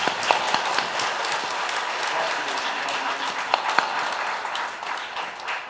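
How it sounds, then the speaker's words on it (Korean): An audience applauds a priest after his talk at a Catholic family retreat, a steady wash of many hands clapping with a few louder individual claps standing out. "신부님께 다시 한번 큰 감사의 박수 드립니다"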